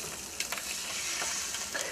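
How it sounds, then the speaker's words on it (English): Sausage sizzling in oil in a hot pan, a steady crackling hiss with a few sharper pops scattered throughout, close and fairly loud. "It doesn't have quite the sizzle I was hoping for."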